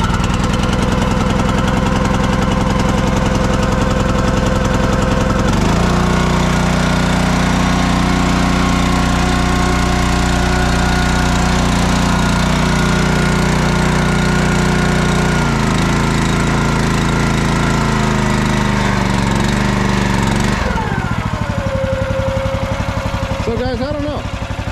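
The engine of a RuggedMade 37-ton log splitter, rope-started, roars loud and steady up close with a rough, knocking idle, changing pitch partway through and then cutting out near the end.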